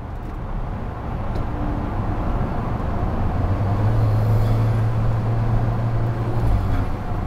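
Inside an Alfa Romeo 4C Spider Final Edition on the move, a loud, steady low engine and road drone fills the cabin. The engine note swells slightly partway through. No one speaks.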